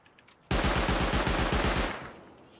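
Rapid burst of automatic turret gunfire in a video game, a loud, steady chain of evenly spaced shots lasting over a second before cutting off and ringing away, with no talking over it.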